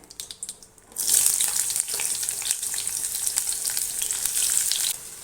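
Onion dropped into hot butter and oil with cinnamon, cloves and cardamom erupts into a loud, steady sizzle after a quiet second of faint stirring, holding bright and close before easing at the end.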